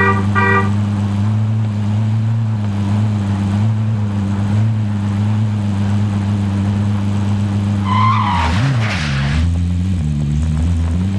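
A car in the Warzone video game is driven with a loud, steady engine drone throughout, broken near the end by a rising engine surge and a short tire skid, with a brief horn-like tone near the start.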